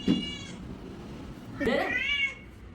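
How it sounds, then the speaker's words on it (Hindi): A young house cat about two years old meows twice indoors, first a short mew and then a longer, rising, drawn-out meow, both fairly close with a quiet pause between them. "मैं तो बिल्ली को देख रहा हूँ।"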